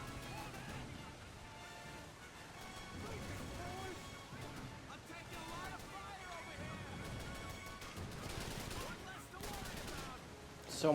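Gunfire rattles through a Call of Duty 3 firefight on veteran difficulty, repeated weapon shots and bursts over busy battle noise, with a person talking over the action.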